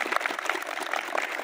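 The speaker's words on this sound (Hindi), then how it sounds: "तो एक बार ताली बजा दो अपने लिए" Schoolchildren in a classroom clapping for themselves, a quick burst of brisk, dense applause from a group, fairly close.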